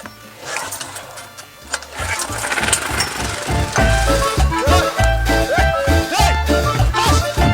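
A motor sputters into life and then runs loudly with a rapid, rattling chug that holds steady to the end.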